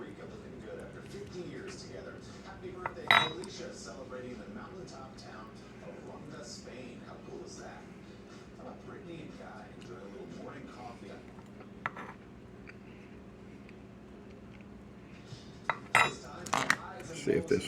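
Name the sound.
utensils clinking in pot while checking cooked red beans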